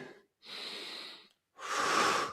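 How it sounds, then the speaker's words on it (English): A dancer breathes in audibly before a pirouette, with a short breath, a longer airy inhale, a brief pause, then a second strong, rushing breath, close to the microphone with no talking. "when you start your pirouette, you're going to take a breath in"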